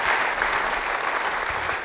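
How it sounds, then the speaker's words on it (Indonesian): A church congregation applauds during a sermon, continuous full-room clapping that holds steady and loud throughout, with no voices on top. "Beri tepuk tangan bagi dia."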